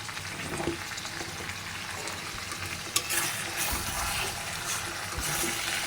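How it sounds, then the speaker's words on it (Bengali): Chopped onions and green chillies frying with beef and mukhi kochu (taro) in a pan make a steady, close sizzle with occasional stirring scrapes, continuous throughout with no talking. "আমি কয়েকটা পেঁয়াজ কেটে রাখছিলাম, সেগুলো এখন দিয়ে দিতেছি, সাথে সাথে দিয়ে নেই।"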